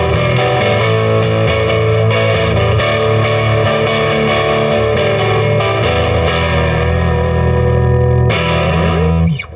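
A Jaguar electric guitar with Jazzmaster pickups wired in series, no bass cut, plays heavily distorted chords and notes, thick and muddy with smeared definition, loud and continuous without voices.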